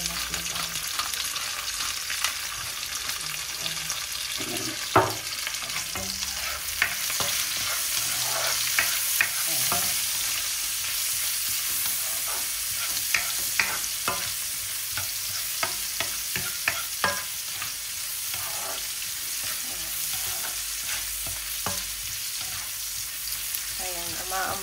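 Pork pata frying with pepper for adobo, a steady loud sizzle with scattered clinks of stirring and turning throughout, no voices.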